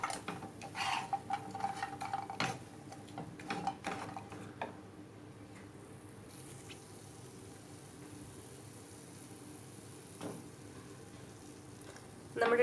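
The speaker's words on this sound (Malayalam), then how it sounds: "ഞാനിപ്പോൾ ചെറിയ കഷ്ണങ്ങളാക്കി എടുത്തിരിക്കുന്നത്, അതുകൊണ്ട് ഞാൻ കുറച്ച് നേരം ഒന്ന് റോസ്റ്റ് ചെയ്തെടുക്കുന്നുണ്ടത്." Chopped dates roast in a pan for khajur burfi, with soft stirring scrapes and clinks of utensil against pan that are busy at first and then thin out to a quiet background, with a faint sizzle.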